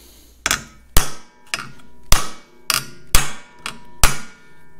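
A hammer strikes a metal edge held over vise jaws about eight times in an uneven rhythm, each loud, sharp clang ringing briefly before the next blow.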